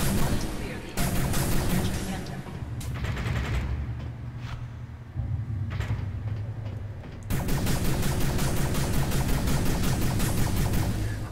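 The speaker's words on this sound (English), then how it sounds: "I don't know if shooting the eggs actually does anything" Gunfire in CDF Ghostship as eggs are shot: dense, rapid volleys of weapon fire in clusters, with a quieter stretch in the middle and then a long, sustained barrage.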